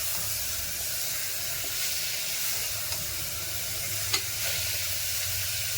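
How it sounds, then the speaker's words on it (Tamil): Chopped tomatoes and salt sautéing in a pan, giving a steady, close sizzling hiss with soft stirring scrapes and a couple of brief clinks, no voices. "போட்டு நல்லா வதக்குங்க. தக்காளி வதங்க."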